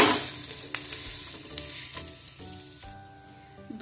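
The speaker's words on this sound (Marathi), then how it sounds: "एका साइडने चिला गोल्डन झाला की पलटून घ्यायचा." An amaranth flour chila fries in ghee on a griddle, giving a close, steady crackling sizzle that fades slightly, with a few utensil taps and scrapes.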